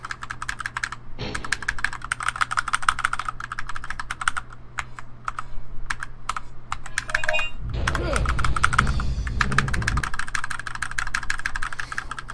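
Rapid, steady computer keyboard typing during a Dino Crisis 2 speedrun, close and continuous, with video game sounds and a low rumble running underneath.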